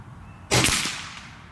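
A single sharp report from an Air Force Condor SS air rifle firing .25 ATP King slugs, a loud crack with a short decaying tail, alone against quiet outdoor background.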